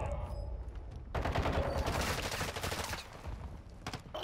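Dense, sustained bursts of automatic gunfire rattle through a Call of Duty: Modern Warfare II match, a fusillade of overlapping shots that starts sharply about a second in and keeps going loud and close.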